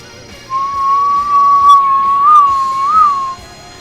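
A human voice whistles a long, steady tone with slight rising wobbles, imitating the whistling of stone-loaded slings being whirled in a fantasy tabletop campaign, sustained for about three seconds.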